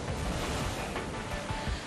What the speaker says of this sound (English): A huge vibration as the waves hit a big cave under all this rock.